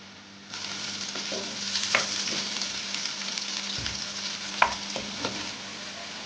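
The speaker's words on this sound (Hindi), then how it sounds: "जब ऑयल गर्म हो जाए तो इसमें 1 मीडियम प्याज स्लाइस में कटिंग की हुई वो शामिल कर दें।" One medium sliced onion hitting hot oil and frying for Matar Pulao, a steady close sizzle that begins abruptly and carries on with occasional stirring clicks and scrapes, no voices over it.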